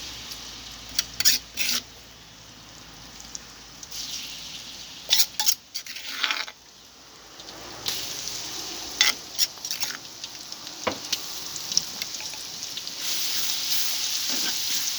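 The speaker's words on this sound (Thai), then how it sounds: "เทกระเทียมลงไปเลยจ้า" Oil sizzles and crackles steadily as garlic fries over low heat, with scattered sharper pops and bursts of louder spitting.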